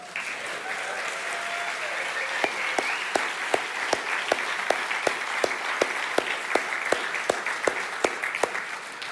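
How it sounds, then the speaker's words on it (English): Church congregation applauding a group of about fifty ministry leaders standing up, steady dense clapping from a crowd with sharper individual claps cutting through, filling the room throughout at moderate loudness. "Y'all clap for them."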